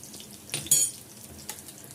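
Lentils and spices fry in a pan for an egg onion fry. A quiet sizzle sits under a few brief scrapes and clinks of a utensil against the pan.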